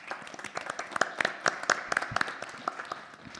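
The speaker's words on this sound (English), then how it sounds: "So, round of applause for Fulvia," Applause from a conference audience at a plenary session, a steady patter of many hands clapping with sharper individual claps standing out, moderately loud and close.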